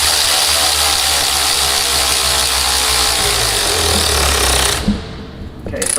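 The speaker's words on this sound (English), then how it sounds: "I've got this battery powered ratchet, we're going to thread it together" A battery-powered ratchet threads a reusable AD-01 coupler fitting onto a pressure hose held in a vise, giving a loud, steady, close motor whir that cuts off abruptly near the end.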